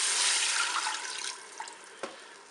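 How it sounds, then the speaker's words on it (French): Broth poured into a Cookeo multicooker, a close liquid splash and gush that gradually tapers off, ending with a couple of small drips and a light clunk. "Et je vais verser mon bouillon."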